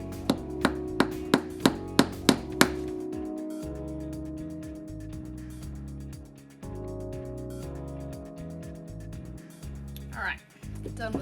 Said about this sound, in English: All right, done with the hammering.